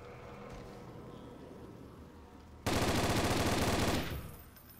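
Rapid automatic gunfire bursts out in the zombie shooter game Zombie Panic Source, a dense rattling stream of shots lasting just over a second after a quiet stretch of game ambience.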